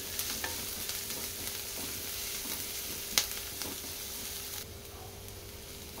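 Onions sizzle and fry steadily in a pan for a sprouts stir-fry, a constant close hiss with occasional stirring scrapes and one sharp tap, no voices.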